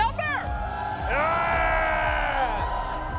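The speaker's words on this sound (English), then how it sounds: "I'm going to give the crowd a lot of chances to scream" Esports arena crowd at a BLAST Slam IV semi-final in Singapore, a loud swell of screaming and cheering with a held shout rising over the roar, fairly close and sustained for a few seconds.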